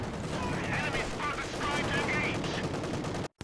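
Light machine gun fire in a real-time strategy video game, a dense, continuous rattle of rapid shots lasting about three seconds under game noise before it cuts off abruptly.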